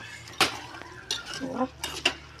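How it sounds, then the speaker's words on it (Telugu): Chicken being mixed with salt and chicken masala in a bowl, with scattered clinks and wet stirring scrapes coming in short bursts, close and fairly loud, with a faint voice at times. "ఇప్పుడైతే వీటిని కలుపుతాను"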